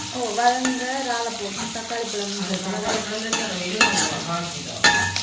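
Prawns and green chilli fry in a pan, giving a crackling sizzle broken by clattering stirs and sharp scrapes, with an uneven rhythm throughout.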